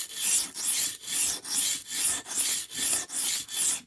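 A cheap butter knife is sharpened on a one-dollar whetstone, giving eight even rasping strokes in a steady back-and-forth rhythm, close and alone.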